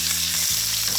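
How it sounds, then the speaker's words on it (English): Hot rosemary-infused olive oil sizzles loudly and steadily as snapper from the deep sea sears, a dense close frying hiss with a brief shift midway. "Let that get nice and hot because we want to sear that fish."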